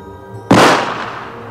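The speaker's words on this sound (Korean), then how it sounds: "총성이 오고" A single loud gunshot sound effect cracks suddenly out of near silence, then trails off in a long, fading reverberant tail.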